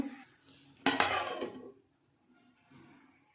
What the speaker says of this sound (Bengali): এবার এটাকে চাপা দিয়ে আমি একটু রান্না করে নেব